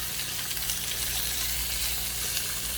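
Pieces of deer heart frying in a pan, a steady close sizzle with a constant crackling hiss and no talking.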